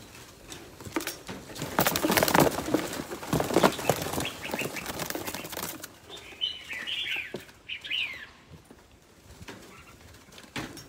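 A chick or chicken flapping its wings in a burst of loud, rapid feathery flutters over the first six seconds, followed by quieter rustling and faint chirps.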